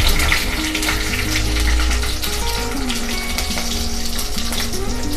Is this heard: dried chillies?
yes